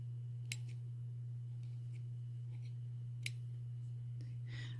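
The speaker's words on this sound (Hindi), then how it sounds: "अब ये सिर्फ क्लिकिंग साउंड तब दे रहा है जब हम फायर कर रहे हैं इसको" A Steyr Evo 10 PCP pistol, a 10-meter indoor air pistol, gives two faint, sharp dry-fire clicks a few seconds apart over a constant low electrical hum.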